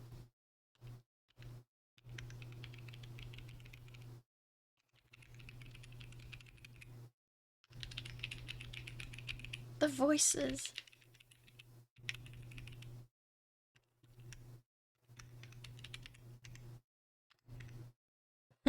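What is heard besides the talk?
typing on mechanical keyboard with Pastel Sand linear switches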